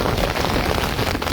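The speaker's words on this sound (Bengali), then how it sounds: "প্রচুর বৃষ্টি হচ্ছে, এখানে প্রচুর বৃষ্টি হচ্ছে।" Heavy cyclone rain pours down in a coastal area of Bhola district, Bangladesh, a dense, steady roar of drops drumming on surfaces, loud and close without letup.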